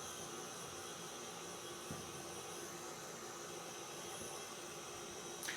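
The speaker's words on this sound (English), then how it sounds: "So let's put the mixer head down and put this on stir." Stand mixer running on its stir setting while mixing sourdough dough with butter, giving a faint, steady motor hum with a soft whir throughout and no talking.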